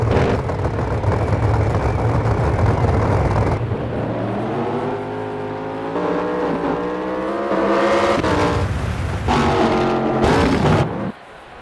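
Drag race cars in NHRA Championship Drag Racing idle loudly at the line, then rev in rising, stepped surges with sharp bursts of throttle before cutting out abruptly at the end.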